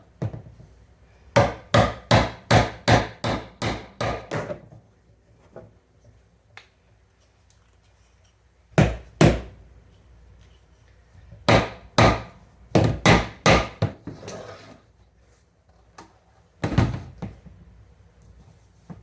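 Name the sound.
beating PVC fittings into a hydroponic kit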